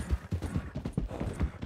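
Horses' hooves gallop in the RedM video game, a quick rhythmic run of soft thudding clip-clops repeating steadily, moderately close and faint.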